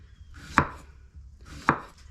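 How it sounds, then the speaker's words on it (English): Two crisp knife chops slice through zucchini on a cutting board, evenly spaced about a second apart, close and clear in a quiet kitchen. "I'm gonna go ahead and cut my zucchini."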